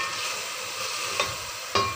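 Cumin seeds sizzle in hot oil for a pulao, giving a steady frying hiss with two sharp stirring clicks near the end, close and alone.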